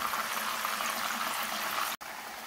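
A leg of mutton, marinated, fries in a pot (patela) with a steady, dense hiss and bubbling. The sound cuts out for an instant near the end and then resumes. No one speaks.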